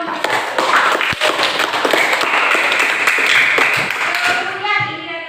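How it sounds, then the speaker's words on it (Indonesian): A classroom of children claps hands together in applause, loud, brisk and continuous for several seconds before thinning out at the end, with children's voices mixed in. "Oke, tepuk tangan dulu."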